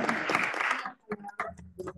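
An auditorium audience at a psychology congress round table bursts into dense applause for under a second, then it cuts off and a voice speaks.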